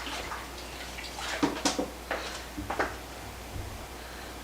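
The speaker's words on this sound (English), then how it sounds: "Just wash my hands again." Tap water runs and splashes over hands during washing, with uneven spatters and brief bursts over a soft continuous flow, close by.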